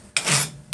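A hand file rasps across metal held in a vise, one long close stroke followed by the start of another, loud and alone.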